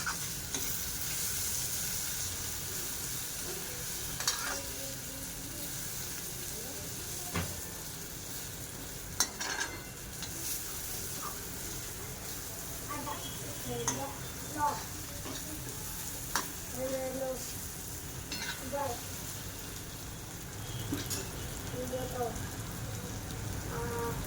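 Tomato with turmeric and red chili fries in a pan, a continuous sizzle broken by repeated scraping and clinking of a spoon as the mixture is stirred.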